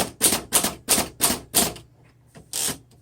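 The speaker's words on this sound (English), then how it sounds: "And it's a very lightweight typewriter." Typing on a lightweight 1929 Underwood 4 Bank manual typewriter: five crisp, evenly spaced key strikes, then a pause and one more strike, close and loud.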